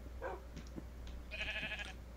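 Minecraft sheep bleating in a short wavering call, clear and fairly close, with a fainter bleat just before it and no talking.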